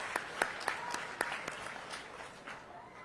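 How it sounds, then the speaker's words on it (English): Light, scattered audience applause at a Fiesta poster unveiling and Miss Fiesta selection ceremony, a handful of distinct claps in a thin, moderately distant round that fades out within a few seconds. "Round of applause."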